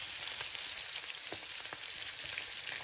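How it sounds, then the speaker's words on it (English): Chicken pieces frying skin side down in hot oil and butter over medium heat, a steady, close, dense sizzle with scattered pops and crackles throughout, no voices. "fry on the skin side for 5 minutes on medium heat"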